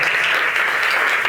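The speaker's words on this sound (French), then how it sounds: "Je vous demande d'accueillir chaleureusement et d'applaudir fort Monsieur Sylvain Durin." A brief burst of loud, dense audience applause welcoming a guest speaker at a summer university gathering, steady and close throughout.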